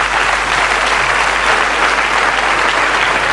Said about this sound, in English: each and every one of them deserves a huge round of applause from the audience